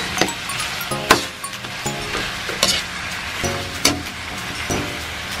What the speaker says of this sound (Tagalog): Haluin ulit natin, baka manikit.